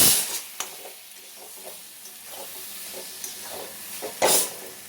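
Eggplant bharta with chili powder and coriander being stirred in a pan: soft scraping strokes and light sizzling come in a loose rhythm at close range, with a sharper clatter near the end and no talking.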